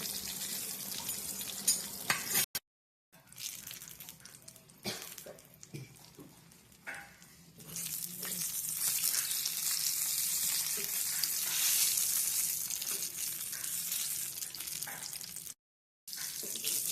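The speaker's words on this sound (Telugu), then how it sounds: "తిప్పుకుని మళ్ళీ మూత పెట్టేసుకుని ఇంకొక 5 మినిట్స్ ఫ్రై అవ్వాలి" Brinjal pieces frying in a covered pan hiss with a steady close sizzle, broken by brief clatters and two short silent gaps as the lid and pieces are handled.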